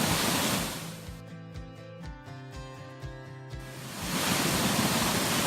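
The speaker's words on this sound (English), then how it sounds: "we're at Cascada El Pavon, one of the many waterfalls down here in the OSA region between Ojochal and Coronado" Rushing water from Cascada El Pavon, a waterfall in the Osa region of Costa Rica, roars as a broad steady hiss at the start and end, briefly overlaid by a tonal, rhythmic passage in the middle.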